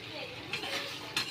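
Mutton and potatoes being stirred in a pan, a spoon scraping and clinking against the metal while a low sizzle runs underneath, with two brief louder scrapes.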